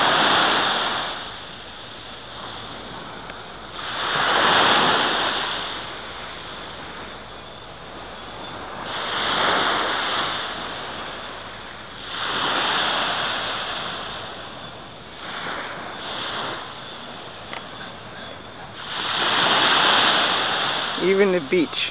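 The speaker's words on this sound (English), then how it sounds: "Can you hear it? Just water. This is Great Bay Beach on Dutch St." Ocean waves wash ashore at Great Bay Beach on Dutch Sint Maarten, a series of slow swelling surges rising and falling about every four to five seconds, with steady background wash between them.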